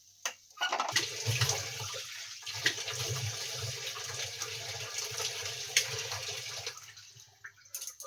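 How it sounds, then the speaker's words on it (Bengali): Water runs from a tap into a sink with close, continuous splashing as it is scooped onto the face on a hot day, fading out near the end; no one speaks over it. "একটু মুখে চোখে জল দিলাম"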